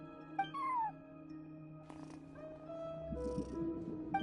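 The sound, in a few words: cat meowing at a front desk in video game Genshin Impact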